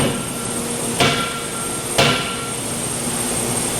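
A heavy forge hammer strikes twice at even intervals while steering pivot arms are forged, each blow a sharp, loud impact over a constant roar of factory machinery.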